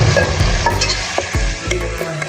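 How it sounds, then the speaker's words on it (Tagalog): A simple pakbet vegetable stew with shrimp paste being stirred in a pan, loud scraping and clattering stirs over a steady sizzle, close up and without talk. "Yan ang pagluluto ng simpleng pakbet."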